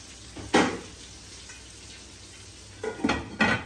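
Onions and chillies frying in a pan, stirred with a utensil: a soft steady sizzle with a clanking scrape near the start and a cluster of three sharper scrapes and knocks toward the end.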